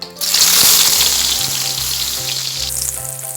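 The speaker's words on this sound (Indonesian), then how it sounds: "Lalu kita tumis bawang merah dan bawang putihnya." Shallots and garlic sizzle loudly in hot cooking oil in a pan, a dense, steady frying hiss that starts abruptly and continues with soft stirring scrapes and low bumps and no talk.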